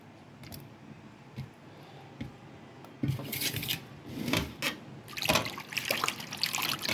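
Water runs and trickles as gongura leaves are washed by hand, soft at first, then louder with splashing and rustling bursts close by.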